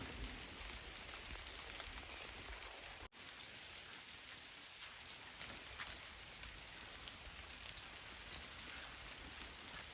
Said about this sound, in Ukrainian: Ось так під дощик.